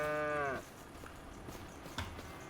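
A cow in Farming Simulator gives one clear, loud moo right at the start, then the game's ambient farm noise carries on more quietly with a faint thump near the end.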